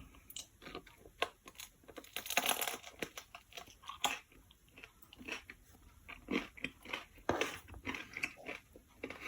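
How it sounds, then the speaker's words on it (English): Crusty homemade sourdough bread crust spread with homemade red currant jelly, bitten and chewed up close, giving repeated sharp crunches and crackles in an irregular rhythm over several seconds with no talking. "So I'm going to eat the crust with my red currant jelly that I made."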